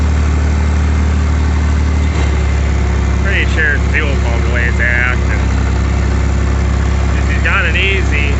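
Car engine idling roughly, suspected of a failing fuel pump, a loud steady low rumble throughout with some uneven texture and faint higher-pitched sounds over it.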